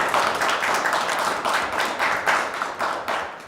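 A small audience claps steadily after a poem is read, dense overlapping hand claps at close range, loud and even for a few seconds with no talking.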